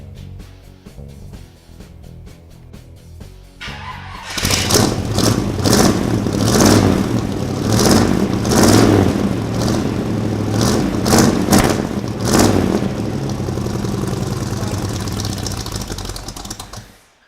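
A Willys Jeep pickup engine cranks with a rapid starter chatter, then catches and runs loudly with uneven revving bursts before settling and cutting off at the end.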